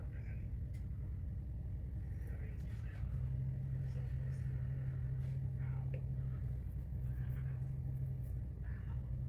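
A truck engine idles while warming up, giving a low, steady rumble that gains a firmer droning hum partway through, with faint muffled voices and small knocks around it.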